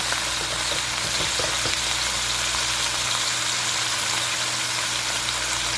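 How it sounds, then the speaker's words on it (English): Pork neck bones brown in a hot pan, a steady, dense sizzle and crackle of frying meat with a low hum beneath, continuous and close with no talking. "We're going to put that on there for a little bit, let that brown."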